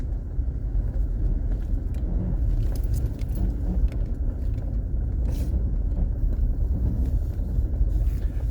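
Steady low rumble of a car driving on a forest road in Allegheny National Forest, heard from inside with gravel crunching and light rattles, continuous and fairly loud, with no talking.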